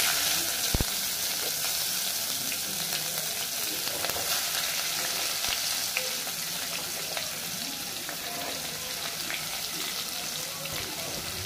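Chopped onions frying with cashews in a pan for chicken fry, a constant close sizzle with occasional spoon clinks and stirring, alone without talk.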